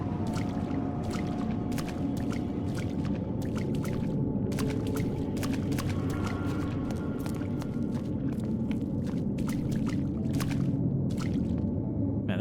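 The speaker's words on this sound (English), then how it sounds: "our sprint just turns into, like, the aggressively wade button when we're in the water" A character wading through water in the Fatal Frame: Maiden of Black Water video game, steady sloshing and splashing with repeated sharp splashy strokes over a constant watery wash, moderately quiet and without talk.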